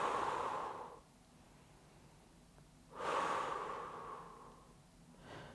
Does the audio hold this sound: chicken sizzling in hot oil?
no